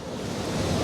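Water surges in through a coastal channel as a broad, rushing wash of waves that swells steadily louder, close and continuous, with a roar like wind over the microphone.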